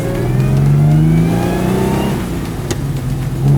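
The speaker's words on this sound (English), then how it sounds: "Yeah, the engine sounds great, the exhaust note's great." A Lancia Aurelia V6 with twin carburetors revs steadily up close, its rising exhaust note held loud and continuous, then easing back before picking up again near the end.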